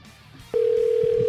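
A telephone dial tone starts abruptly during a live-stream call and holds as one steady, loud, continuous hum, with faint background sounds beneath it.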